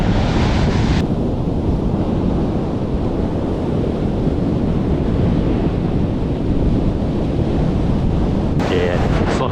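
Ocean surf breaking on a beach during a fishing outing, a constant loud roar of waves mixed with heavy wind buffeting the microphone, with no gaps.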